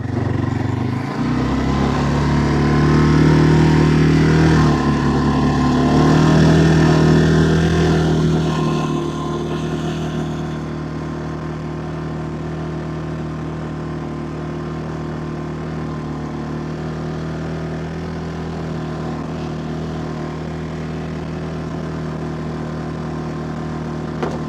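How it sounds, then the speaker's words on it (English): A four-wheeler ATV engine idles and runs steadily at close range, louder and revving slightly at first, then settling into a constant low hum. "We're gonna go ahead and hop on the four-wheeler and go back in the woods"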